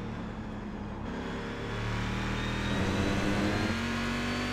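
A race car engine in a sim racing Sportscar Challenge at Donington, held steadily against the rev limiter, making a loud, sustained buzzing drone that swells slightly partway through and never drops off.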